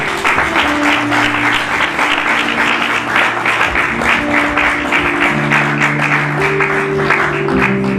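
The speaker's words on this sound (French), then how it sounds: "Et par votre encouragement, par votre acclamation, nous voulons encourager le pasteur Blé, s'il vous plaît." A church congregation at a temple service in Brussels claps loudly and continuously to encourage the pastor, with sustained musical tones ringing underneath the applause.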